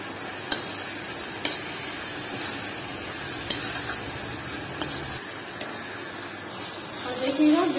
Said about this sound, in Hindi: बहुत थोड़ी सी डालेंगे हम इसके अंदर हल्दी, और इनको भून लेते हैं अच्छे से